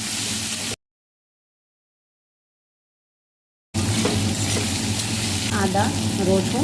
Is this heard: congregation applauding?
no